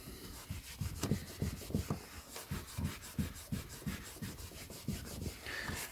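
A cloth rubs nicotine staining off an old paperback book in rapid back-and-forth strokes, a soft, close, rhythmic scrubbing with about a dozen evenly spaced passes and no talking.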